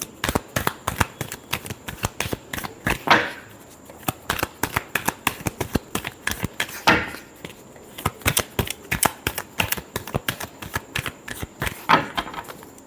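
Tarot cards being shuffled up close, with rapid, dense riffling and slapping bursts running steadily for several seconds and no speech.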